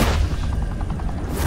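Gunfire from the Batman: The Telltale Series video game rattles in a dense, continuous barrage. The shots blur into a steady roar with faint rapid pulses and hold at an even loudness for the whole stretch.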